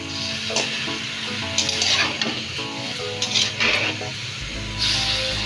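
Chicken with ginger and garlic is sautéed in a pan, a continuous close sizzle broken by scraping stirs and clinks of a utensil against the metal, with no talking.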